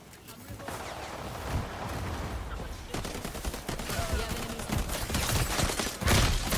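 Video game gunfire from hip firing, a dense, loud, continuous burst of rapid shots layered with explosive rumble and chaotic game noise.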